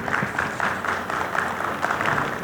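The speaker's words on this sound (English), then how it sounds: "You can give him a round of applause." An audience at a Saudi tourism conference session claps steadily, a dense patter of many hands applauding without a break.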